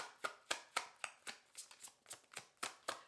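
Tarot cards being shuffled by hand, a quiet run of about a dozen crisp riffling snaps at a brisk, fairly even rhythm, close and isolated.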